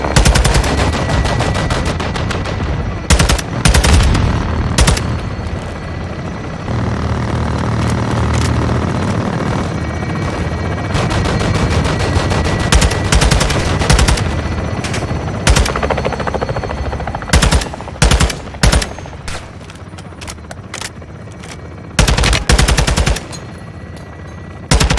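Helicopter gun run in Call of Duty: Modern Warfare 2, with loud close bursts of machine-gun fire and heavy impacts repeating in clusters over a steady rotor and engine drone.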